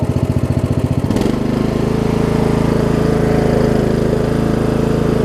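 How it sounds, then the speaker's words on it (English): A Murray riding lawn mower engine runs with a fast, pulsing chug, then settles into a loud, steady idle drone, close by. "It idles down too."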